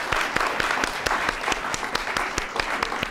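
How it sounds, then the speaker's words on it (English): A live audience applauds panelists at the close of a discussion at Bay View Camps, a dense, steady burst of many hands clapping close by, with a few sharper individual claps standing out, and no talking. "big round of applause."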